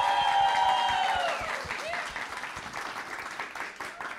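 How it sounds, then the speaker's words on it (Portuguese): Audience applause greets two karate athletes, Nadine and Nicole, at an education-week gathering, a dense burst of clapping that starts strong and gradually thins out, with a voice speaking over it at the start. "Uma salva de palmas, pessoal!"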